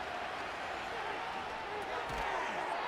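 Stadium crowd at an NFL football game between the Detroit Lions and Washington Commanders, a steady, distant roar under a commentator's voice.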